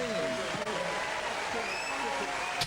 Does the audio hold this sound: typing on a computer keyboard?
no